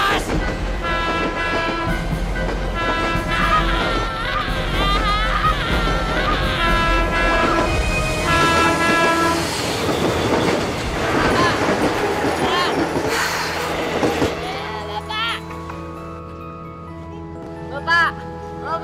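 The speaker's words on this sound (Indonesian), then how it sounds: "Kereta api, awas!" A train rolls past loudly with steady clatter of wagons and grinding rail noise, the rumble fading toward the end, while voices shout over it.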